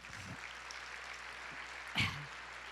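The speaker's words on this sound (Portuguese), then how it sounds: "vamos aplaudir ao Senhor" Steady church congregation applause, a dense wash of clapping hands that holds at an even level throughout.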